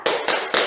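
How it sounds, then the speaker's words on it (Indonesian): A class of children clapping in unison for the Tepuk PPK chant, three sharp, close, evenly spaced claps in quick succession. "kita tepuk BPK bersama-sama ya"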